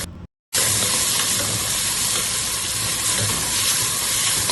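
Whole spices hit 200 ml of hot oil along with well-fried onions, setting off a loud, dense, continuous sizzle close by after a brief silent gap at the start, with no talking.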